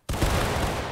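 A drill company fires a rifle volley: one sudden, loud, near blast that cracks at once and rolls on with a rough, rumbling tail, with no voices.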